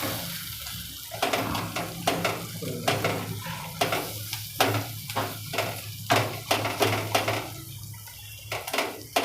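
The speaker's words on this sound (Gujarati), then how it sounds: "મસાલા બધાય મિક્સ કરી દઈએ" A spoon stirs spices together in a hot cooking pan for Kathiyawadi dhokli shaak. Rhythmic, repeated scraping strokes ride over a constant low sizzle, close and fairly loud.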